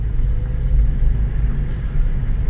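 A 2015 Nissan Leaf electric car accelerating, its motor giving a faint, steady whine over a constant low rumble of road and cabin noise, with no engine revving and no talking.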